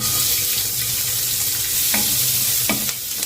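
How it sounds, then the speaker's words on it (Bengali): A medium-sized chopped onion sizzles in hot oil with spices on a low-flame stove, a steady loud frying hiss broken by two sharp scraping stirs of a spatula against the pan near the end. "একটা মাঝারি সাইজের পেঁয়াজ কেটে রেখেছি, দিয়ে দিচ্ছি।"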